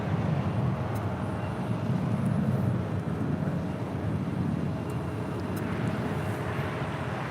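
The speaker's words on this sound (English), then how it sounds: "Delta Airlines Flight 306 on this A320, originally with Northwest Airlines, delivered to them in October of 2001." Delta Air Lines Airbus A320, originally a Northwest Airlines jet delivered in 2001, at Los Angeles International Airport, gives a steady, loud low rumble of engine and wind noise that runs throughout without a break.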